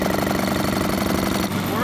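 A small engine, run on choke, idles with a steady, loud, continuous rumble and a fast pulsing throb from start to finish, with a voice partly mixed in.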